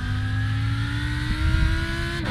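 Two GTE race cars battling in iRacing at the Daytona 24-hour race, engines holding a steady high drone with a brief rough burst near the end, loud and close with no talk.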